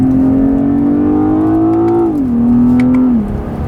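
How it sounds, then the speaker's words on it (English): The inline 6-cylinder engine of a BMW 8-Series Gran Coupé hums loudly and smoothly from the cabin on a wet road, its pitch rising gradually under light acceleration before dipping twice as the driver eases off. "we are definitely disturbing their silence with this inline 6-cylinder"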